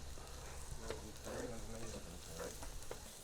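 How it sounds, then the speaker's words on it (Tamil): Shallots sautéing with spices in a pan for Jaffna-style crab curry: a quiet, continuous crackling sizzle with faint scraping stirs and occasional soft clicks of a utensil, low and steady throughout. "நல்லா இந்த சின்ன வெங்காயம் இந்த வாசனை பொருட்களோடு நல்லா சேர்ந்து நல்லா வதங்கி வரணும்."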